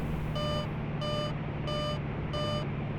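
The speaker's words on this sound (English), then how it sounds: "It's kind of annoying how that freaking buzzer keeps going off." An aircraft warning buzzer in the X-Plane 11 flight simulator sounds in five evenly spaced tonal beeps over a steady engine drone, with no voices.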